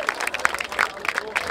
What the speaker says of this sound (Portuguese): Palmas e mais palmas pra essa batalha.